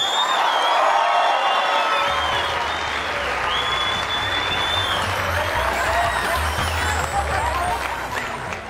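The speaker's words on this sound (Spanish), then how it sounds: "Reciban con un fuerte aplauso a Juan Ricardo Lozano" A television studio audience on a Colombian comedy show breaks into loud applause and cheering, with dense clapping, whoops and high whistles, while music plays underneath.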